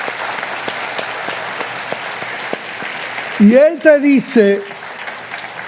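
A church congregation applauds for the Lord in a soft, steady spatter of clapping that runs for several seconds before a preacher's amplified voice cuts in over it.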